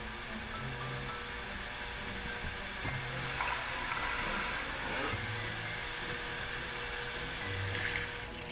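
Water runs steadily into a cooking pot of chicken feet adobo, a continuous splashing fill with faint background hum and clinks.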